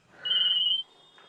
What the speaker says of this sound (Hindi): तेरा फोन बोल गया